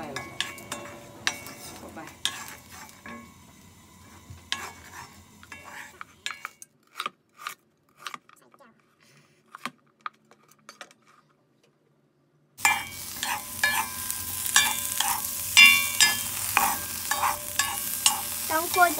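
Garlic is dry-roasted and stirred in a pan for Chiang Khan-style black jaew, heard as irregular scraping stirs and clinks of utensil on pan. A louder sizzle-like hiss takes over near the end, and there is no talking.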